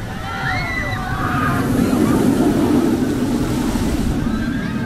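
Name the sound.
water effect splashing on SeaWorld ride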